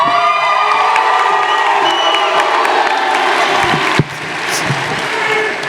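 A large high school graduation crowd cheers and applauds loudly and steadily, with whoops and shouts over dense clapping that drops back briefly before swelling again.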